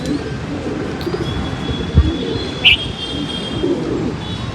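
Pigeons coo softly at a distance over a steady outdoor rumble, with a couple of brief thumps and a faint chirp.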